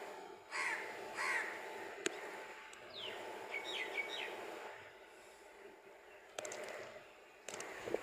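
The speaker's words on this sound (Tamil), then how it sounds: "அது காகம்டா." A crow caws repeatedly outdoors near a home where a guard dog named Rover is kept, giving several harsh calls in short bursts, with other birds chirping in the background and some sharp knocks; moderately distant, no speech.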